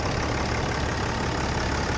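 A 2011 Ram 3500 Longhorn crew cab long-bed truck idles close by, its engine giving a steady, even rumble throughout with no revving and no voices.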